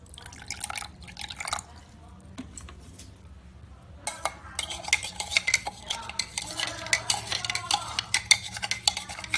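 EDTA being stirred into water in a container during dishwashing-soap making, a utensil scraping and clinking with liquid swishing, sparse at first then a busy, rhythmic stirring that grows louder toward the end.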